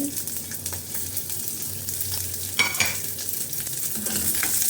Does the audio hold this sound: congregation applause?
no